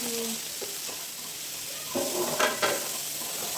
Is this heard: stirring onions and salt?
yes